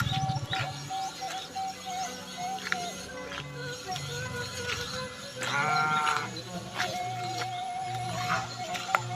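Sheep bleat repeatedly in a pen in a Sundanese village in Cikole, West Java, with wavering calls at moderate distance over a low steady hum and scattered taps.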